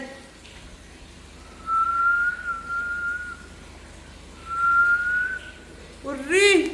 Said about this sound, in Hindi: मैं मस्त सीटी बजा रही हूँ